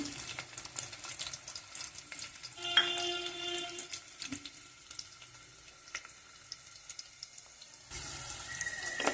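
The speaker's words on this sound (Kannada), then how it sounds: "ಇದು ಮಿಕ್ಸ್ ಮಾಡಿ ಸ್ವಲ್ಪ ಬ್ರೌನ್ ಆಗಬೇಕು ಸ್ವಲ್ಪ ಬಾಡಬೇಕು ಈರುಳ್ಳಿ ಒಂದು ನಿಮಿಷ ಫ್ರೈ ಆದ ನಂತರ" Onions fry in oil with fennel seeds for a spinach rice dish, a quiet crackling sizzle broken by occasional utensil clinks and scrapes against the pan.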